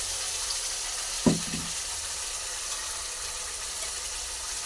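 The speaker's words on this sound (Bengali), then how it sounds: "আদা, রসুন, পেঁয়াজ, টমেটো, কাঁচা লঙ্কা পেস্ট করেছি," Ginger, garlic, onion, tomato and green chilli paste fries in hot oil in a pan, giving a steady, fairly quiet sizzling hiss throughout, with one brief sharper clatter early on and no talking.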